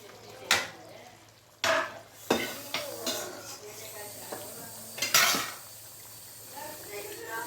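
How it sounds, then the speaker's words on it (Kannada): Metal utensils clank and scrape against a pot as okra is added to simmering tamarind gravy, with sizzling in between, a few sharp knocks and stirring noises close by, no talking. "ನಾನು ಈಗಲೇ ಬೆಂಡೆಕಾಯಿನ ಹಾಕ್ತಿದ್ದೀನಿ ನೋಡಿ"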